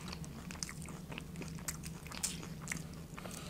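Faint, close crunching bites and chewing of a crunchy Taco Bell taco, several crisp cracks scattered over a low background hum.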